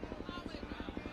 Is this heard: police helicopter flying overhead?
yes